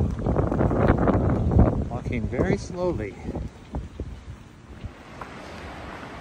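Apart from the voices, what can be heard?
wind blowing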